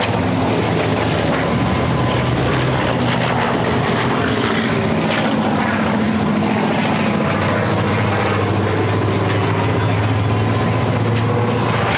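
A Corsair fighter with a Pratt & Whitney R2800 Double Wasp radial engine flies at an air show, giving a steady, loud propeller drone with a low rumble that holds for the whole stretch.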